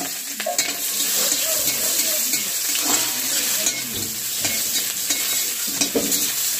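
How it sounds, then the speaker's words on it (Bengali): Onions tempered in hot oil with a crackling sizzle, stirred with regular scraping strokes, close and fairly loud throughout. "এবার মা ফোড়ন দিয়ে দিচ্ছে, পেঁয়াজ, পেঁয়াজ ফোড়ন দিয়ে দিচ্ছে"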